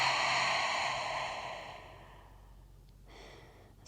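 A slow, deep exhale during a restorative yoga session for healthcare practitioners, a long soft breathy rush that fades gradually into near silence, close and alone.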